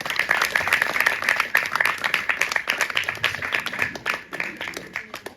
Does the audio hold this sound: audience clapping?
yes